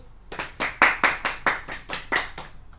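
A group at a summer camp claps in unison, about nine sharp, evenly spaced claps in a steady rhythm, close and loud, with no talking.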